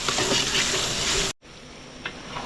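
Tomatoes, garlic, onion and ginger sautéing with buro (fermented rice and fish) give a loud, dense sizzle with stirring scrapes, cutting abruptly to near-silence, then a quieter sizzle resumes.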